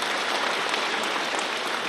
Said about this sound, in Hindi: माननीय मोदी जी के लिए जोरदार ताली बजाएं